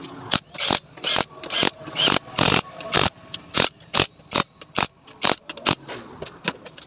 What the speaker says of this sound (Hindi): यहाँ पे आपको ये चला के देख लेनी चाहिए कि हमारी जो क्लच शाफ्ट है वो फ्री चल रहा है या नहीं चल रहा है